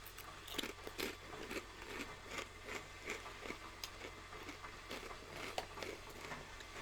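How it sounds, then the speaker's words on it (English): Ketchup-flavored Ruffles wavy potato chips crunched and chewed close to the mic, a steady run of crisp bites and mastication crackles over several seconds with no talking. "Sometimes I think Ruffles are like too much crunch for me personally"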